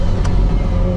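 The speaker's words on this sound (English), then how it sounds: "We just jam the throttle." A McLaren 765LT Spider roars loudly at full throttle with traction control off, a dense steady engine and exhaust blare lasting about a second with no pause.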